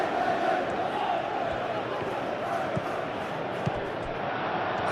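Simulated stadium crowd in PES 2021 during a Chelsea vs AC Milan friendly match, a continuous roar of massed voices with swelling murmur and faint thuds, steady and fairly loud without distinct cheers.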